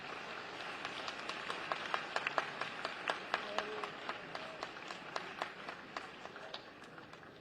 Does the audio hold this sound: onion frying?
no